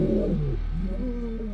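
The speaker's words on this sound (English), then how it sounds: "They were loud, they roared." Loud, close lion roaring from territorial males: a sustained low, groaning call with a rumbling tone that dips and rises again, heard alone with no talk.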